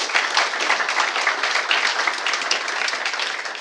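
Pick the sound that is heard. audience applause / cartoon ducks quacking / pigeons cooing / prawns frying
audience applause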